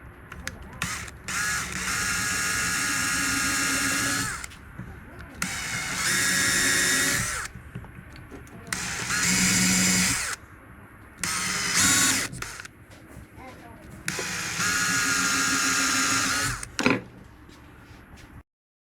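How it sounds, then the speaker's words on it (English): A power drill whines in repeated bursts of several seconds each, separated by short pauses, biting through metal up close while drilling weight holes for an offset spinnerbait. "now we are drilling the weight, the holes for the weight in the belly"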